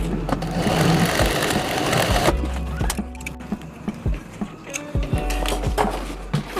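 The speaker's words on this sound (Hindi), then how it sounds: "फिर तान के इधर लगा के हम सिलाई कर लेंगे मजबूती से" A sewing machine stitching a homemade travel bag, running in a steady fast whirring burst, then stopping and restarting in shorter runs with clicks and thumps of handling between them; no talk.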